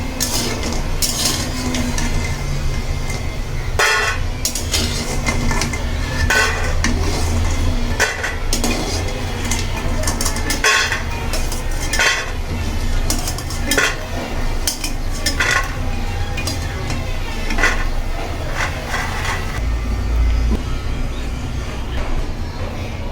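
Metal utensils clink and scrape against a pan as fried pumpkin lentil dumplings (kumro bori) are lifted out, a steady run of close clatter over a constant low kitchen hum.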